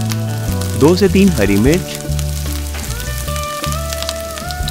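Cumin, ginger and green chillies hit hot desi ghee in a pan, giving a loud steady sizzle and crackle under a voice speaking, with music playing alongside.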